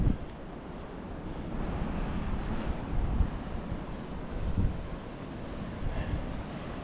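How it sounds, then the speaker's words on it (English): A mountain creek on the Mount Whitney trail above tree line, a steady broadband rush of flowing water with some wind buffeting on the microphone, continuous and fairly close. "Some pretty good water flow on this creek."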